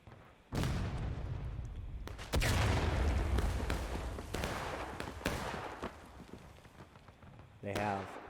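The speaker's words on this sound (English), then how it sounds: "CSA artillery gone up here." Heavy booming CSA artillery fire in a strategy video game battle, several loud blasts with long rumbling decay, punctuated by scattered sharper shots and crackling, with a voice briefly at the end.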